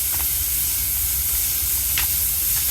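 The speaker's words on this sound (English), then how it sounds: "hit it with the compressed air" Compressed air blasts into a homemade turbocharged furnace as a loud, steady roaring hiss with no break, close to the listener, with a couple of faint brief knocks under it.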